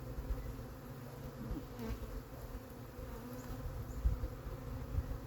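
Honeybees from a wild swarm buzz around a hive being moved into a new home, a continuous low droning hum close by with occasional louder passes of individual bees.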